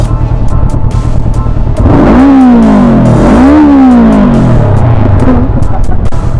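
2019 Honda CB500F motorcycle engine firing up close and loud, then revving twice in rising and falling sweeps before settling into a lumpy idle, with voices talking over it.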